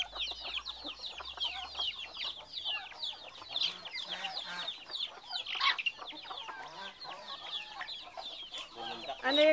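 Chickens cluck busily around a coop with little chicks about, a dense stream of close, overlapping clucks and peeps with a few louder squawks, while people talk softly now and then underneath.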